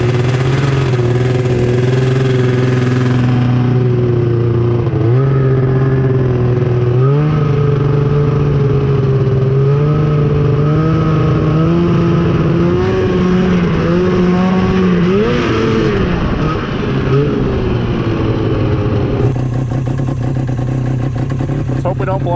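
Snowmobile engine revving hard and steadily for the whole stretch, loud and close, its pitch rising and dipping with throttle changes while a voice speaks over the roar.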